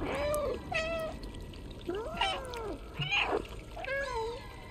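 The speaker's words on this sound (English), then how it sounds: "Meow." The stray cat in the video game Stray gives several rising and falling meows in a row, close and fairly quiet, with a soft watery trickle running beneath.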